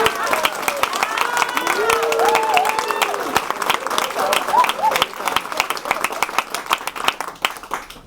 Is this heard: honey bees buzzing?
no